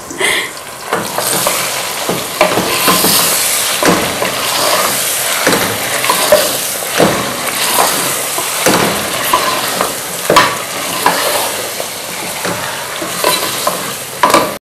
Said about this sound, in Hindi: जैसे ही प्याज फ्राई हो जाए आपने जो मैरिनेट करके हमने गोश्त रखा था वो डाल दें